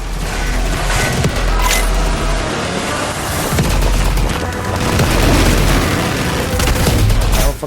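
A rocket blast strikes the player in a video game, loud booming explosions and crackling bursts over dense game noise, with several heavy impacts in quick succession.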